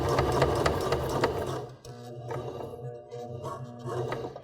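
A domestic sewing machine runs steadily, stitching slowly around the curved edge of a fabric sleep mask, with a fast rhythmic whir that pauses briefly, then restarts in shorter bursts at close range.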